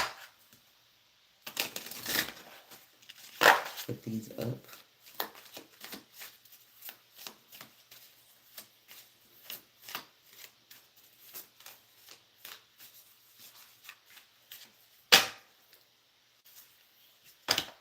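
Playing cards are shuffled repeatedly in quick riffling bursts, with snaps and soft flutters between, close up; a voice speaks briefly.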